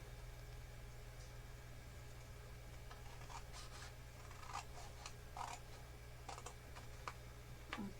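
Scissors snipping paper at an angle for a mini pocket album, a series of quiet, crisp cuts and light rustles spread across a steady low hum.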